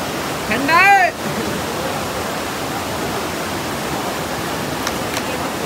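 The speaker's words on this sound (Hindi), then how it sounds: "पानी का फ्लो देखो कितना तेज है।" A fast-flowing mountain stream near Gaurikund rushes in a steady loud roar; a voice briefly rises over the water near the start.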